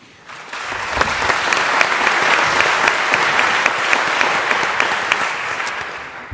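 Audience applause rises after an introduction at the 2013 Hutchins Forum panel on a diverse and divided nation, a dense, steady wash of many hands clapping that starts abruptly and holds at full strength without talk.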